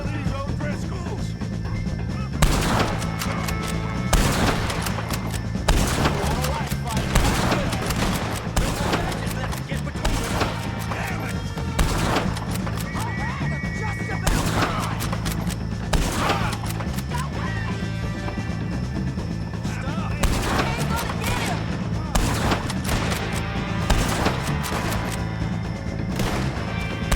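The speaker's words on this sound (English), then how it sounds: "shoot some of these O'Driscolls!" A gunfight in Red Dead Redemption 2 against O'Driscoll gang members, with repeated loud gunshots cracking irregularly over a busy game soundscape of shouts and clatter, steady throughout.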